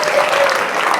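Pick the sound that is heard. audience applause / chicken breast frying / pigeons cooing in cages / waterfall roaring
audience applause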